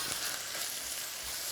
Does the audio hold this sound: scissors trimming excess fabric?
no